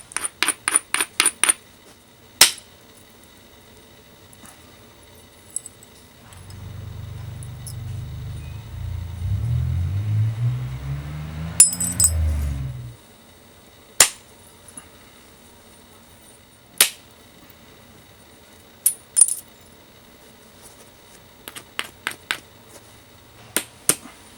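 An obsidian arrowhead is knapped, with sharp isolated clicks and taps of strikes knocking off flakes, scattered across the clip, plus a stretch of low rumbling handling noise in the middle.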